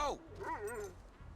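A dog in Grand Theft Auto V gives a few short barks and whimpering yelps up close, with a low game ambience beneath.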